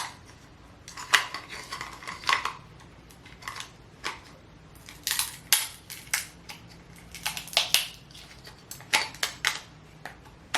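Crab legs crack and crunch under a cheap metal nutcracker, a series of sharp irregular snaps and splintering crunches in close bursts separated by short quiet pauses.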